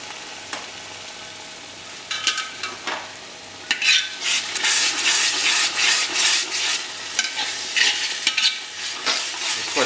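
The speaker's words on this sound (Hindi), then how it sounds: "इसको अच्छा भून लें बढ़िया, लगभग 5-6 मिनट।" Chicken masala fries in a pan for an Indian chicken curry, with a spoon scraping and stirring through the thick sizzling spice paste in repeated uneven strokes, close and fairly loud, no voices.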